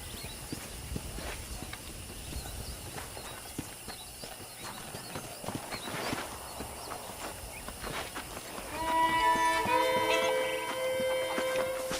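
Horse hooves clip-clop steadily throughout in Red Dead Redemption, with a bright game music cue rising over the last few seconds.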